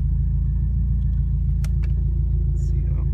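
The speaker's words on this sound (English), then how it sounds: "the car's still warming up. Eventually it will settle down to a nice low idle." A Hyundai Genesis Coupe with a Haltech engine management system and 750cc injectors idles while warming up. It makes a steady, close, low rumble with a few faint clicks and rustles on top.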